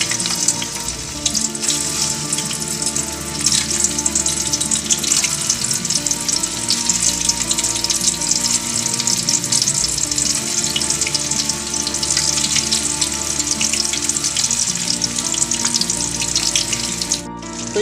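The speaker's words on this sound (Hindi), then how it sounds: "अब हम टिक्कियाँ फ्राई करते हैं। हल्की आंच पे फ्राई करना है इनको।" Kofta kebab patties fry in hot oil over low heat, giving a steady close crackle and sizzle with bubbling texture and a low background hum throughout.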